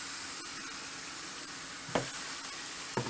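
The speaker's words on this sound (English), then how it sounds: "I'm going to place these steaks in there" Steaks laid into a hot pan to brown sizzle and fry in a steady, quiet hiss, with two brief sharper crackles or clinks standing out near the end.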